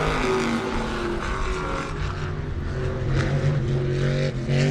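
A race car at Lee USA Speedway accelerates hard out of turn two, a loud sustained engine roar with rising tonal pitch that stays close and dense throughout.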